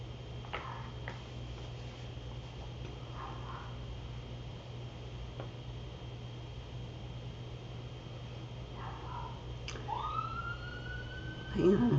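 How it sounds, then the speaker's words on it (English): A distant siren, likely from an emergency vehicle outside, rises into a faint wailing tone near the end, heard over a steady background hum in an indoor room. "we got a siren outside"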